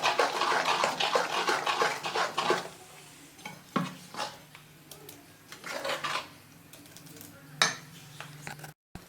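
A spoon stirs batter for a low-calorie steamed snack in a bowl, giving soft, irregular scraping and knocking strokes, faint and close, with occasional louder clicks against the bowl.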